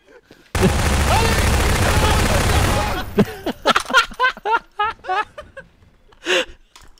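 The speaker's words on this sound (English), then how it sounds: "I think we should make oh, a rule dear. banning the grenade launcher on on guns" A dense, roaring volley of grenade launcher fire and blasts fills the first few seconds of a Garry's Mod Prop Hunt match. Gasping and laughing voices follow in short bursts.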